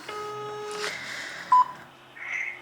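A run of telephone keypad tones sounds as a number is entered on a phone, a few distinct beeps of differing pitch separated by short gaps in a quiet room.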